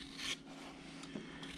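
A sharpened gouge carves slowly into a wooden dog figure roughed out on a bandsaw, giving soft, close rasping scrapes that swell briefly near the start, with no talking.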